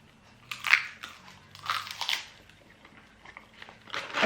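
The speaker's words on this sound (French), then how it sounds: "Là, je suis en train de manger à 11h du matin moi. On avait eu des algues séchées" Crunchy dried seaweed snack, slightly less crisp than when first opened, eaten in a series of close crisp bites and crunches with soft chewing between, quiet and without talk.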